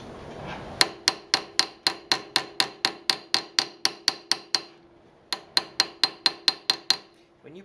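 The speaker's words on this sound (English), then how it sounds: "Now we're going to peen the second part of the back pin." Hammer peening the back pin of a slipjoint knife on an anvil: two runs of sharp, ringing metallic taps close up, about fourteen quick even strikes, a short pause, then eight more.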